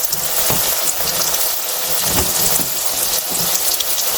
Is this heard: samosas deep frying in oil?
yes